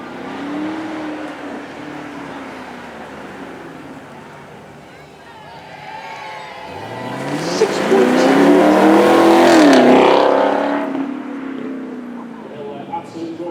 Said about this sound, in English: let's have some good old American muscle with our Camaro